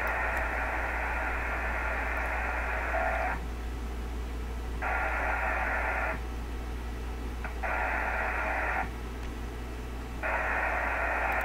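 A steady wash of radio static with a strong band of noisy buzz that switches on and off in long irregular bursts over a low constant hum.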